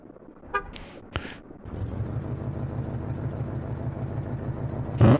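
Traffic in the Soviet-republic city-building game Workers & Resources: Soviet Republic: a couple of short car horn toots at first, then a steady low rumble of engines, ending on another brief honk.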